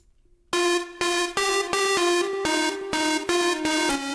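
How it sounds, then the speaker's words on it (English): A bright synth melody plays alone as the top layer over a remix bass line, starting after a brief silence with rhythmic sustained notes shifting in pitch, loud and close. "And then I made a melody on with a different synth."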